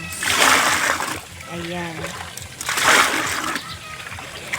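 Cold tap water splashes and sloshes in a bath for a pregnant woman, loud and close in two broad bursts, with a brief spoken word between them.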